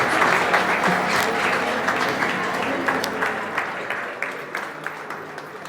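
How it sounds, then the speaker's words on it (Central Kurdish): A stage audience bursts into sustained applause to welcome a doctor, many hands clapping loudly and evenly before slowly thinning out, with a voice faintly under it. "هەموو بە یەک چەپڵەی قایم با پێشوازی لە دکتۆر هەمە ئاتار بکەین"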